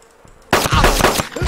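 A quiet half second, then a burst of loud gunshots from the video game DayZ, several shots fired in quick succession, close and harsh.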